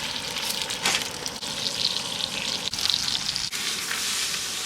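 Trout frying in butter in a pan sizzles steadily and loudly at close range, a continuous crackling hiss with brief dips and small bursts, and no voices over it.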